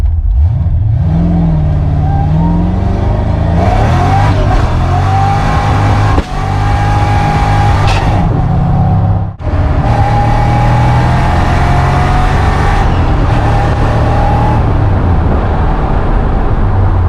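A repaired car pulls hard from a rolling start on a test drive, the engine note rising loud and close, dropping sharply at quick gear shifts, then climbing again through several more gears.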